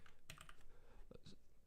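Keys clack on a computer keyboard in a quick, uneven burst of close, faint taps separated by short pauses.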